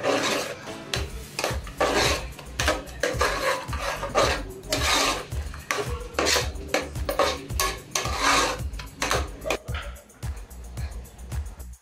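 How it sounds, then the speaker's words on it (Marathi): Taro leaf paste stirred into a pot for a traditional Maharashtrian alu fatfat, giving a steady run of rasping, scraping strokes against the vessel with brief pauses. "पेस्ट करून आपण आता ती ह्याच्यामध्ये मिक्स करतोय।"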